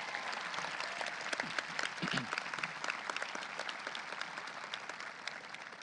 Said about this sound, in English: his team a round of applause